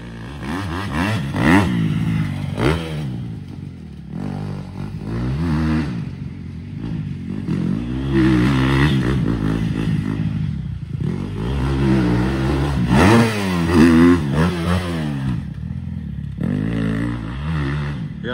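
Supercross motorcycles roar around the track, engines revving hard and dropping off in repeated surges, loud and fairly close, with sustained high-pitched whine between bursts.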